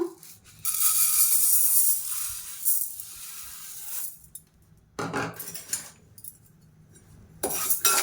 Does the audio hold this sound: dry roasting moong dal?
yes